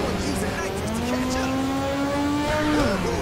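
A race car in Ridge Racer 6 kicks in its nitrous boost, a steady rising engine whine holding loud and close over tire noise for about three seconds, with no talking over it.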